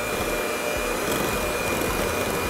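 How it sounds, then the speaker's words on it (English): Electric mixer beating a block of cream cheese with half a stick of butter, a steady close whirring motor drone with a faint rhythmic churning underneath, alone without talk. "We're gonna start by beating one block of cream cheese and a half a stick of butter."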